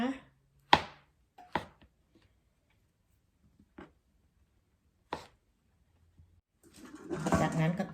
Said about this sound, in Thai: หั่นเห็ดนะคะ